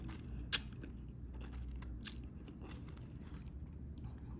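Close biting and chewing of jajangmyeon with crunchy zucchini, tender meat and al dente noodles: one sharp crunchy bite, then soft, repeated moist chewing crunches, quiet and intimate.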